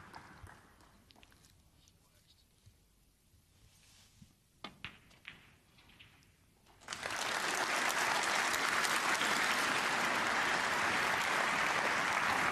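Snooker match audience breaks into loud, sustained applause after a quiet stretch with a few knocks, and the clapping holds steady to the end.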